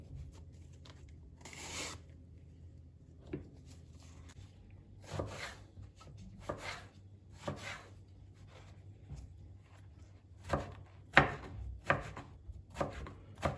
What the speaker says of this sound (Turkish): Çok küçük ya da çok büyük doğramıyorum.